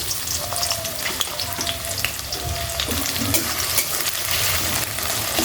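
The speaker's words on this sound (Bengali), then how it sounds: "পেঁয়াজটা একটু হালকা ভেজে নেবো" Chopped onion and green chillies fry in hot oil with a steady, dense sizzle, and brief stirring scrapes come through for the rest of the clip. Nobody speaks.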